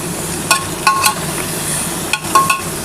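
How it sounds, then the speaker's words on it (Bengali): Onions with Kashmiri chili powder hiss in a pan while a spatula scrapes and clinks against the metal several times in quick bursts, close and fairly loud, with no talking. "এবার ভালো করে একটুখানি পেঁয়াজের সাথে একটু নাড়াচাড়া করতে হবে।"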